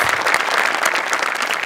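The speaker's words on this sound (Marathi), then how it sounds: "त्यांच्यासाठी एक जोरदार टाळ्या." A studio audience at a Marathi comedy show breaks into loud, steady applause, dense clapping filling the whole moment without pause.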